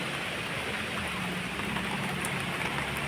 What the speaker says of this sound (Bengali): নাক চম্পা গাছে বৃষ্টির জল পড়ছে